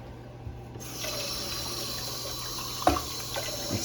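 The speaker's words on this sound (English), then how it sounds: "let's add some water." Tap water runs steadily into a nearly empty tomato paste can while making homemade spaghetti, with a brief clink partway through and no talking.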